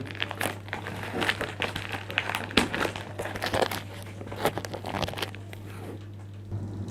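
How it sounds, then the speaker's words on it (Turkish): Plastic shrink wrap is torn and peeled off a thermostat box, close crinkling and crackling in irregular bursts with brief quieter gaps, over a faint steady hum. "Jelatin kısmını açalım."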